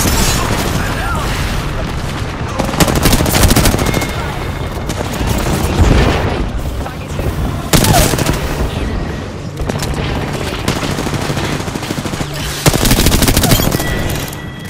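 Dense gunfire in the Apex Legends battle royale shooter on PS5, with rapid bursts and heavy booming shots running almost continuously near and loud, mixed with game sounds and voices talking over the action.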